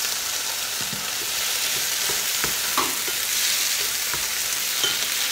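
Tomato purée goes into a hot frying pan and sizzles steadily, with scattered stirring scrapes and taps over a constant frying hiss. No voices are heard.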